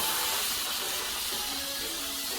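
A Shark S3501 Steam Pocket Mop on a hard floor gives a steady, even hiss of steam throughout, close and continuous with no voices.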